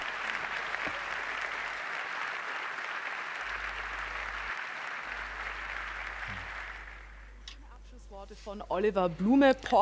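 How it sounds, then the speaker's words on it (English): Sustained audience applause at a Porsche 75th anniversary sports car show, a broad steady wash of clapping that fades out near the end as a voice begins speaking. "I think that's worth a round of applause for all these lovely people"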